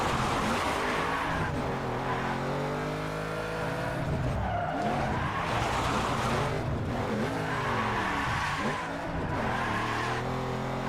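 Car engines in a racing video game rev and roar with loud skidding and tire squeals, pitch rising and falling through gear changes and slides over several seconds, with no voices over them.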